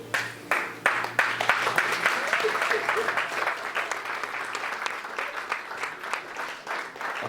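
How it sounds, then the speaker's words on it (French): A church congregation claps and cheers in praise of the Lord, steady rhythmic applause from many hands filling the room, loud and sustained throughout with voices mixed in. "Acclamez le Seigneur."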